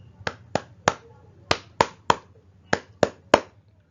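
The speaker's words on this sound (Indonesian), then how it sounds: "Jadi kita tepuk tangannya 3 kali" Sharp, close hand claps in three quick groups of three, each set evenly spaced with brief pauses between, recited as a classroom clapping chant with no talking over them.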